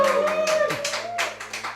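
A few people clap in a small studio for arriving theatre musicians. The sharp bursts of claps repeat in an uneven rhythm under a sustained tone and some talking.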